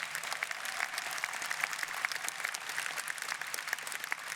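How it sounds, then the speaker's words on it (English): Audience applause at a union conference hall, a steady patter of many hands clapping at moderate volume, continuous and even throughout with no voices over it. "Give her a round of applause for what she does."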